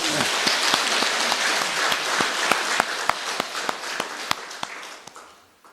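A church congregation applauds during a worship service, quick close clapping that starts full, turns into sharper spaced claps and fades out toward the end.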